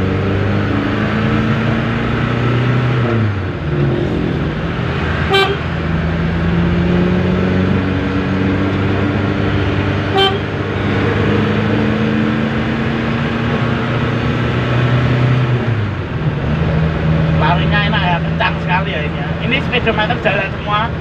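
A Colt 120 car on the move, its exhaust a steady low drone with shifting engine tones that rise and fall as it accelerates, with someone talking over it throughout.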